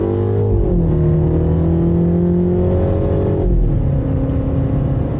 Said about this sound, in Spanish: Los petardazos que nos da el escape también son muy divertidos cuando hace los cambios de marcha o hacemos algún cambio de aceleración.